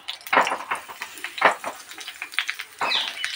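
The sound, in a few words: eggplant halves frying in oil in a kadai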